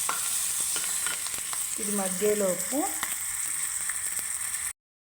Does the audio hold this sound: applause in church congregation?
no